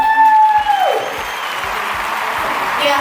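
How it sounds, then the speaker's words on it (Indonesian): An audience bursts into applause for a speaker at an MC school event in Surabaya: a dense, steady wash of clapping that swells in and holds for a few seconds. "Yuk beri tepuk tangan semuanya."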